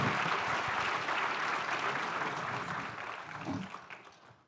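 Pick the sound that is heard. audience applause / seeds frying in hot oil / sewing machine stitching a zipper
audience applause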